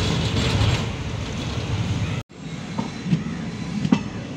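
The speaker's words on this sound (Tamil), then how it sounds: "ட்ரெயின் நல்லா ஸ்லோவாக தான் போகுது" Tea Garden Express train pulling slowly out of Karaikal Junction, a steady broad rumble of wagons and running gear with a brief dropout midway, then fainter rolling with occasional clanks.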